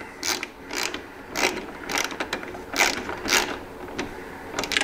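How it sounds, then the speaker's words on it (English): Standard hand ratchet tightening the nuts on a motorcycle crash bar, worked back and forth in repeated bursts of sharp clicking, close and clear, with no talk. "I'm going to take a standard ratchet, not a battery operated ratchet. We don't want to take the chance of busting the plastic. So we're going to tighten this down."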